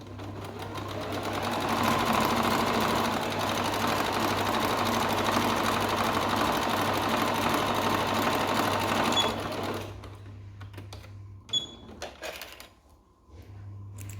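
A sewing machine runs steadily for about ten seconds, stitching the raw edges of Paw Patrol long pants together, with a constant low motor hum, then stops, leaving quiet handling noises and a few small clicks.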